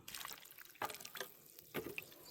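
Water runs and drains down into garden soil around tomato plants, heard as faint close trickling and splashing in a few short bursts, with no talk.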